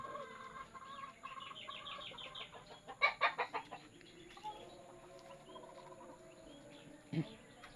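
Backyard gamefowl chickens clucking nearby, with a run of quick rhythmic clucks and a louder burst of cackling in the middle, then quieter scattered clucks over faint background noise.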